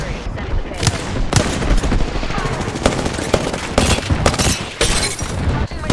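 Gunfire in the video game Apex Legends: dense, rapid bursts of shots and sharp cracks crowd the whole stretch, loud and close, with faint in-game voices mixed underneath.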